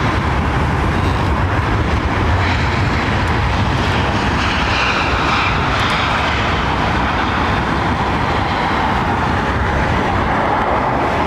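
An airliner arriving on BA459 from Palma at London Heathrow Airport roars steadily and loudly throughout, a broad continuous jet rumble with no voices.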